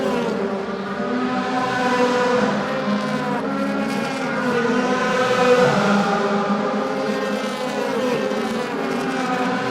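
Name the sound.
DTM race cars at Moscow Raceway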